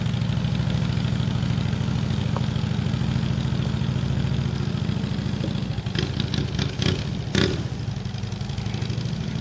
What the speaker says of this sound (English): you should be able to rev the motor without picking up speed